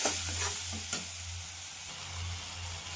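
Spice paste with Kashmiri chili powder and turmeric sizzles and fries in oil in a pan while a utensil stirs it steadily, producing a close, continuous crackle with scraping strokes.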